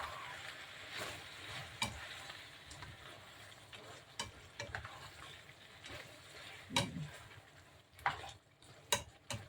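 Green peas being stirred into Ilocano igado simmering in a pan, with a soft steady sizzle, scraping stirs and a few sharp clinks of the utensil against the pan, close and fairly quiet.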